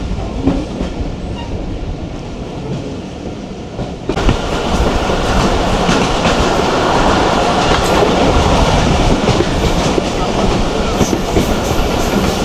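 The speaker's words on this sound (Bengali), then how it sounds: "তারপরে ট্রেন যথেষ্ট জোরে চলে," The old Tungipara Express runs fast over old, worn rails, giving a loud, continuous rumble with rattling carriages and clattering wheels that swells suddenly partway through.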